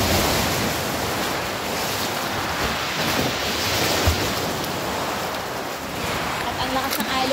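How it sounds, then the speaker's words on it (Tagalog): Strong ocean waves crash and churn continuously at a rocky beach beside a sea cave at high tide in Mauban, Quezon, a loud, dense roar mixed with wind buffeting the microphone. "At ang lakas ng alon."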